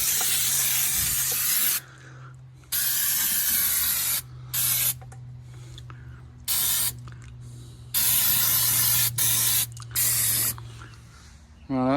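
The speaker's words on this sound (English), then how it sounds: "I might as well give all this a bit of a degrease" Degreaser sprayed in repeated long hissing bursts onto the underbody of a Jaguar XJS, close and loud, separated by short pauses with a low steady hum beneath.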